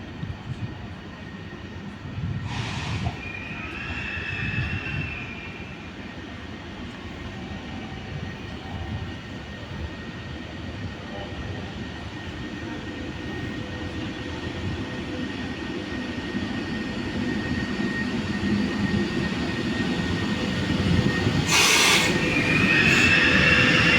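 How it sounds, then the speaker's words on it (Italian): A regional train pulls into a platform at Padova station, its rumble and rolling wheels building steadily and growing louder toward the end, with brief squeals and clanks near the start and close to the finish. "Proveniente da Rovigo e diretto a Venezia Santa Lucia delle ore 16:21, è in arrivo al binario 2."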